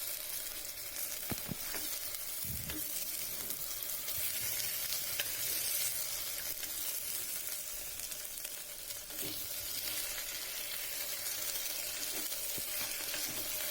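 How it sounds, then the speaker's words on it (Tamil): Okra and onion sauté together in a pan for South Indian vendaikai puli kulambu, with a steady hissing sizzle throughout and occasional faint stirring taps and scrapes, close and unbroken, with no one speaking. "வெண்டைக்காய் சேர்த்து நல்லா வணக்கி விட்டுருவோம்"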